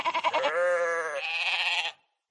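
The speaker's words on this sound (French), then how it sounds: "Et dans les prés gambadent des moutons." Sheep bleating in a meadow, one long wavering bleat followed by a second, close and clear, then silence.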